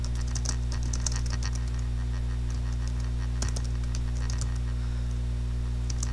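Quick, irregular clicks of typing on a computer keyboard, with short bursts and pauses over a steady low electrical hum, close and fairly quiet, no talk.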